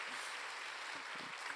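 Church congregation clapping during a Sunday afternoon service, a steady wash of applause from many hands throughout, with a few low murmuring voices underneath.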